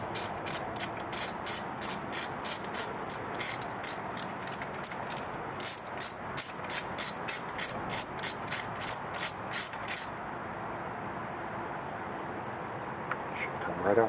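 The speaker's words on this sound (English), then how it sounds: "You're just going to pop your socket in, socket wrench." A socket wrench ratchets in a rapid, steady run of close, crisp clicks while spark plugs are loosened and removed, the clicking stopping abruptly partway through and leaving quiet background.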